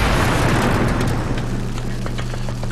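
A tank shell lands a critical hit in World of Tanks, a loud, close booming impact at the start that decays into a low rumbling engine hum over the remaining seconds.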